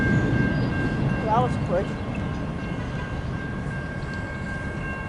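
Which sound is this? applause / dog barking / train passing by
train passing by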